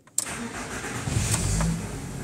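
A 1995 VW T4 van with an ACU engine, which stutters and stalls when warm, cranks briefly and catches, then settles into a steady, close mid-pitched idle with a light rev.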